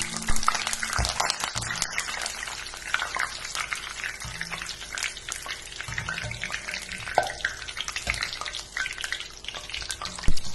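Curry leaves crackle and hiss as they fry in hot oil for an omapodi snack mix, a steady close sizzle with occasional stirring and clinks of a pan throughout.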